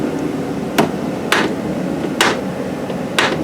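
Chevrolet Equinox door with a worn door check strap gives four sharp, separate clunks at an uneven pace over low background hum, close and fairly loud, with no talking.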